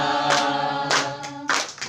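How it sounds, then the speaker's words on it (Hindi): Rhythmic hand claps land roughly every 0.6 seconds, keeping time with a Hindi worship song at a Christian prayer and fasting service. Sung melody and accompanying music carry on steadily beneath the claps. "ताली बजा के तुम गाओ"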